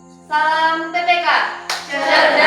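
A group of voices chants the Tepuk PPK rhythmic clapping chant in a teacher-training art classroom, with sung syllables mixed with sharp hand claps that begin after a short pause and grow busier toward the end.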